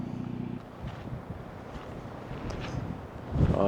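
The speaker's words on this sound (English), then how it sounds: "Oh, and there's that wind." Wind gusts across an open high-desert camp spot on BLM land near Capitol Reef National Park, a steady broad rush that buffets the microphone, swelling slightly louder toward the end.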